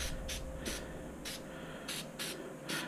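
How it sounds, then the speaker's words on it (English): Heavy-duty corrosion inhibitor is sprayed indoors from an aerosol can onto boat parts such as rudders, nuts and bolts: seven short, sharp hissing bursts, close and fairly loud, with brief gaps between them. "Just spray them around your rudders, your nuts, your bolts, all that stuff. Just give them a little spray."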